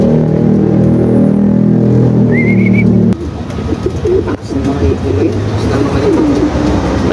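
Racing pigeons coo in a loft while young and old birds are loaded for a race. A steady, close, low cooing drone runs under ongoing talk, then gives way to busier rustling and scattered noise.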